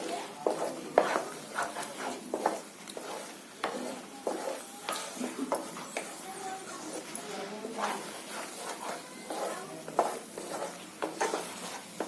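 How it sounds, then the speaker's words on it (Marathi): A dry green pea stuffing fries on a high flame for pea puri, with a soft crackle under repeated scraping and stirring strokes against the pan at an irregular pace. "आता मी गॅस फास्ट करते आणि पूर्ण फ्राय करून घेते."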